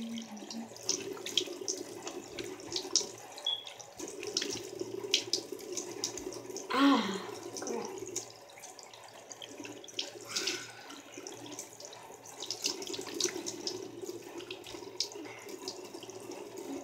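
Tap water runs into a sink while a face is rinsed, a steady splashing flow with a brief louder burst of splashing near the middle, no talking over it.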